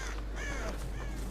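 A crow-like bird in a survival video game gives a couple of quick, harsh caws, close and clear over a steady low hum, with no one speaking.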